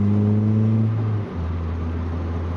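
A Honda K24 engine in a K-swapped Mazda Miata hums loudly and steadily from inside the car. Midway its pitch drops sharply as the revs fall, then it settles into a lower, even drone.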